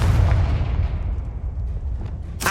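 A spell explosion in the Hogwarts Legacy video game, a loud, dense booming blast that rolls on for a couple of seconds, with a sharp new burst at the very end.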